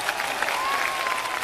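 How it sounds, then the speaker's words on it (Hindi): Brief burst of steady applause from an audience at a comedy rooster-crowing contest, dense clapping holding level throughout with a faint tonal whistle running underneath. "तालियां"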